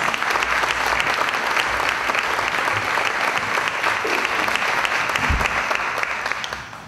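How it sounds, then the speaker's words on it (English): A crowd at a county schools entertainment event breaks into loud, dense applause that stays full and steady throughout, with a few thumps underneath before it begins to taper at the end. "Let's give them a round of applause."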